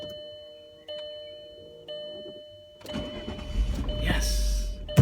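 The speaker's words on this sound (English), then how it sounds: "turn it on again, just to show you that it does start" A Volkswagen Eurovan starts up: quiet electronic chimes and clicks give way to the starter cranking and the engine catching and rising to a rumble, with a voice faintly underneath.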